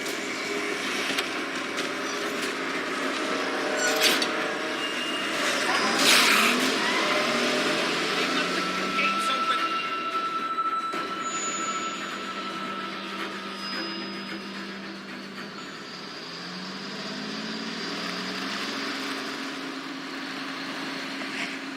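A car engine idling and running steadily in The Walking Dead video game, a continuous low rumble with mechanical whine and occasional higher tones, moderately loud with no talk.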